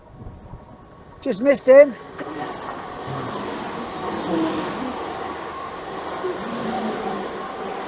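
A train passing at the seaside, heard as a steady rolling rumble with faint wheel squeal that carries on for several seconds after a short burst of nearby voices and a brief high call at the start.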